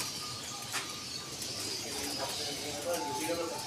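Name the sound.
diamond doves cooing in breeding setup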